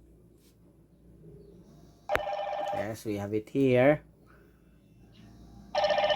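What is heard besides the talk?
GW55 smartwatch ringing for incoming Bluetooth call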